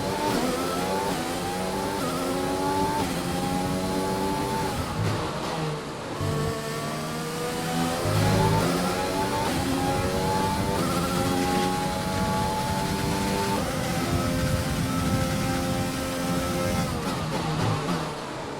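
A Formula 1 car in the F1 2020 racing game, running in My Team mode as a Jordan entry on worn tyres, holds a loud, close, high-revving engine whine. The pitch rises and dips with gear changes, and no one talks.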